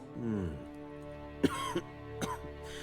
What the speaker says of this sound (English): That's a weird cough.